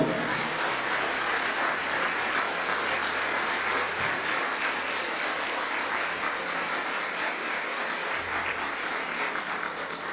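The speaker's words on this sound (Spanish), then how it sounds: "Vamos a darle un fuertísimo aplauso a la palabra del Señor" A congregation at a Christian family congress claps for the reading of the Gospel, a continuous, moderately loud spread of applause with a low steady hum underneath, lasting about ten seconds without letting up.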